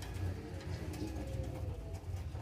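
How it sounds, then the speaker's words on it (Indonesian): Zebra doves, Bangkok perkutut, cooing at a simple dove breeding farm, soft repeated low coos over a steady murmur of background noise, fairly faint and without any talking. "Ini adalah contoh peternakan perkutut. Ini perkutut bangkok semuanya"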